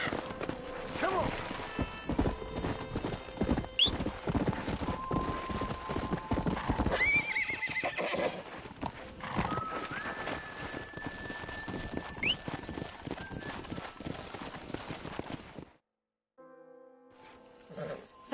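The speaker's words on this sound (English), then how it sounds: "We got some fine horses." Horse hooves clop steadily at a walking pace, close by, broken by several loud whinnies, before fading to near silence at the end, in Red Dead Redemption.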